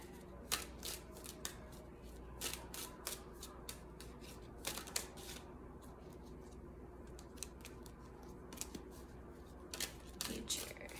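Tarot cards being shuffled by hand, with a run of soft, papery riffles and slides in irregular bursts, close and fairly quiet over a steady low background hum.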